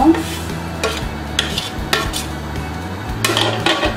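Spoon stirring vermicelli and sugar into thickened boiling milk in a pot for a Bangladeshi Eid dessert, dudh dulari; repeated soft scraping strokes against the pan with light bubbling, close and steady, no talk.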